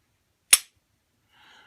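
A custom Glock pistol trigger breaks on a dry-fire press, giving one crisp, sharp click alone in near silence, followed by a faint, soft trailing sound.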